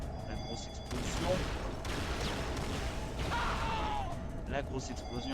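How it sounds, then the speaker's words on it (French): Explosions and weapon fire from the arena shooter Unreal Tournament, a dense, continuous barrage of blasts and booms with whooshing bursts, loud throughout and mixed with a voice talking over the action. "La grosse explosion."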